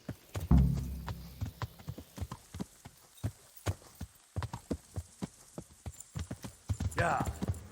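Steady, evenly spaced horse hooves clip-clop across a medieval setting in Kingdom Come: Deliverance, crisp and fairly close, with a low rumble and a brief snort near the start and a short murmur of voices near the end.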